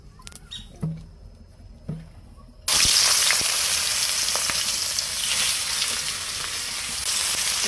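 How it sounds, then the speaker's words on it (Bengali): Large fish pieces fry in hot oil in a pan, a few sharp clicks and taps at first, then a sudden loud, dense sizzle and spatter that continues steadily up close. "এই তো মাছগুলো হয়ে গেছে ভাজা।"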